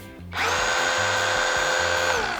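A Canlidi 21V battery chainsaw with an 8-inch bar starts up after a moment of quiet and then runs at a steady, loud, high-pitched whine, close to the microphone with no speech.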